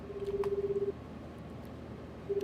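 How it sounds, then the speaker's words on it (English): A cell phone rings in the video game 428: Shibuya Scramble, a steady pulsing tone that stops after about a second, a quiet pause, then the ring starting again, faint and alone. "The phone rang several times."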